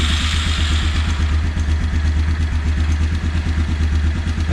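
A Yamaha Grizzly 350 4x4 ATV running without choke on a newly installed, tuned carburetor, its single-cylinder engine idling steadily with a rapid, even chugging pulse and mechanical clatter up close.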